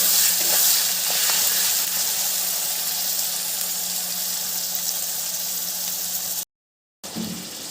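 Spices sizzle steadily in a pan as turmeric, salt and chili powder go in to fry with garlic paste for gondhoraj chicken, a constant hiss throughout with a brief gap near the end.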